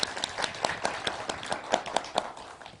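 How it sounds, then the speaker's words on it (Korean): Applause at a year-end gathering and constitutional-amendment debate, with a fairly close crowd clapping in a quick, uneven rhythm. Some individual claps stand out, and the sound stays lively throughout. "큰 박수 부탁드립니다"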